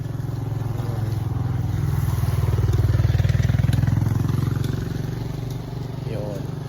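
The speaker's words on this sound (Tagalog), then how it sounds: "may motor." A motorcycle engine drones loudly and close throughout near a hotel, swelling toward the middle as it passes and easing off toward the end.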